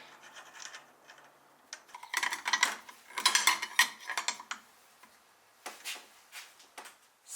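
A ratchet clicks in quick bursts while a strut top nut is torqued down on a Land Rover Evoque, the sharp close-up ticks clustering in the middle and trailing off into a few final strokes.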